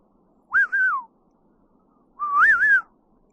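Two clear whistled calls from wigeon, a rising-and-falling note repeated with a pause between, distinct against a quiet background.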